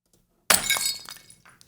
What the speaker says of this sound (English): Now let's get a bottle break sound for the impact of the bottle on the spider.